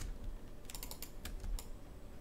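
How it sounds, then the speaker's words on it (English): A handful of quick, light computer keyboard key presses tap in a short burst, faint and close, over a quiet background. "we're going to hit Q on the keyboard"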